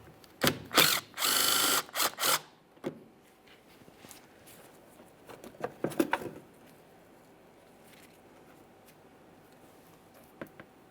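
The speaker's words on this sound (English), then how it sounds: "you can see we have a 10mm headed mounting bolt. We can remove that." A ratchet works loose a 10mm mounting bolt on a 2015-2020 Ford F-150 fender, with quick close clicking bursts in the first few seconds, then scattered faint ticks and handling noises.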